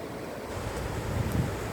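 A small waterfall on a Konkan agricultural plot near Dapoli, among mango and cashew trees, gives a faint, steady rush of flowing water mixed with wind hiss, with no talk.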